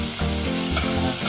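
Garlic and onion sauté in hot olive oil in a pan, a steady loud sizzle with bursts of stirring, with no talk over it.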